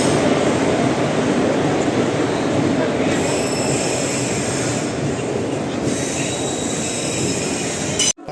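A West Coast Express train hauled by a WAP 4 electric locomotive rumbles steadily at a station platform, a continuous loud drone of wheels and carriages with faint squealing, ending abruptly.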